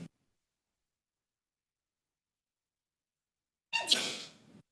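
A single sharp sneeze rings out from a person during a quiet council meeting, short and fairly close, after several seconds of near silence.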